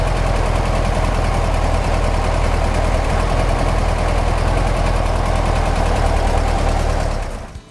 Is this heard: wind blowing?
no